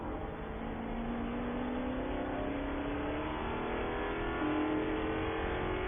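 Spec Corvette race cars lap Sebring International Raceway during a feature race, their V8 engines a loud continuous roar with a rising, revving pitch and overlapping engine notes.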